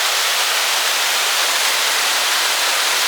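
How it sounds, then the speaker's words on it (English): Waterfall flowing over old stonework at a flash dam near Ladygrove Mill in Two Dales, Derbyshire Dales: a steady, loud, unbroken rush of falling water filling the whole clip, with no voices. "we're going to actually get a beautiful waterfall, and I do love me a waterfall"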